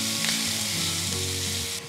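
Garlic-chili thecha sizzles steadily in hot tempering oil, a loud, close, continuous frying hiss with no voices over it.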